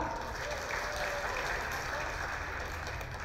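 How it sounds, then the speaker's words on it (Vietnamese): Crowd applause rises at a football tournament closing ceremony, a continuous even patter of many hands heard somewhat distant behind a steady background rumble, sustained throughout without a break. "đề nghị chúng ta nổ một tràng pháo tay thật lớn ạ"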